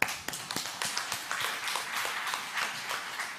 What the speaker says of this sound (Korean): 여러분 박수 한번 쳐주시죠